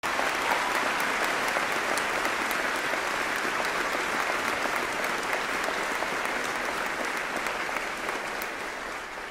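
Sustained, dense applause from a large audience at a 2014 college commencement ceremony, loud and steady throughout, tapering slightly near the end with no talk over it.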